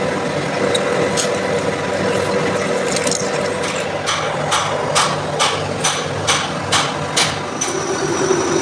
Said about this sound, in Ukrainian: Тепер пережав отак втулочку та сверлю. Розсверлюю.